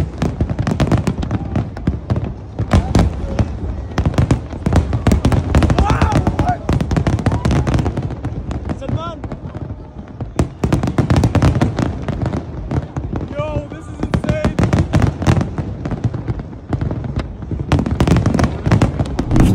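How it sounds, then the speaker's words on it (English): A fireworks show after a Formula 1 race sends out a dense, continuous barrage of loud bangs and crackling bursts. A crowd can be heard cheering and talking underneath. "but after Max Swan, they did a whole on fireworks show"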